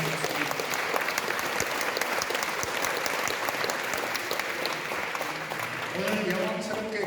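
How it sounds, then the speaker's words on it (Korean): An audience applauds steadily at a formal Korean commemorative gathering, a dense, even wash of clapping that holds throughout and thins slightly near the end, with no voices heard. "여러분 박수로서 성원해 주시면 고맙습니다"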